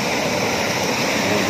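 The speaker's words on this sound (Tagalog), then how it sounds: "Bukod pa sa malalakas yung alon" A strong river current rushes past as a dense, steady roar of churning water, loud and close, filling the whole moment without a break.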